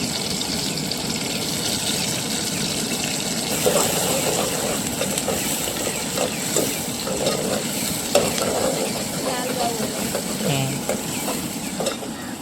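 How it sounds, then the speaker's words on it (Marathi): Chopped onion fries in hot oil in a pan for a crab (kurle) dish, with steady close sizzling and repeated scraping stir strokes running throughout, with no talking. "कांदो चांगलो भाजा गयो."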